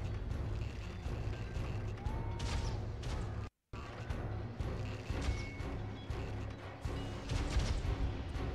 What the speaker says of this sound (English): These guys are gonna shoot at each other.